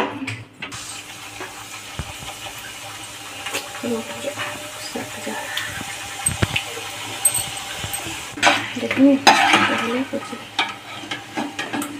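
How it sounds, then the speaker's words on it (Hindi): Puris deep-fry in a pan of oil, making a steady bubbling sizzle with scattered clinks and scrapes that grow busier toward the end as they are turned and lifted out; nobody talks. "सभी पूड़ी को फ्राई कर लेते हैं"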